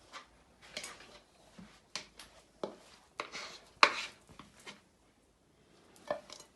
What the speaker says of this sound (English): Then we're going to add our butter. Chop it into smaller pieces